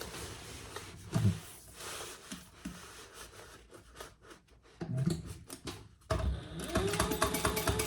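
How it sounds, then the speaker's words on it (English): A sewing machine stitches a half-inch seam on a jumbo beach tote bag in short bursts of rapid needle chatter with pauses between, fairly quiet and close, no speech. "we'll sew our 1/2" seam allowance"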